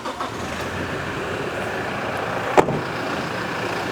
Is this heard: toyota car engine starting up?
yes